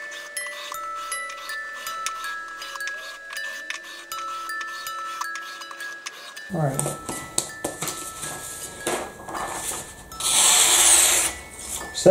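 A knife blade is drawn repeatedly across a rough, chalky Work Sharp ceramic rod, producing close, rhythmic scraping strokes that start partway through, after a quieter stretch.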